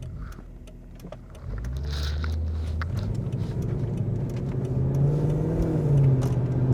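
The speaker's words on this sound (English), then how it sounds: "But I will say it's really immediate, the throttle response." A car with a modified throttle response accelerates hard, its engine note swelling from idle into a steady, rising, close drone that grows louder toward the end.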